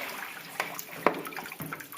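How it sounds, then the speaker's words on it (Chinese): Water rushes into a washing machine through a faulty inlet valve with the tap open and the power plug pulled, a steady, fairly faint hiss with a few small knocks and splashes. "插头都拔掉了还进水，那就是进水阀坏了啊。"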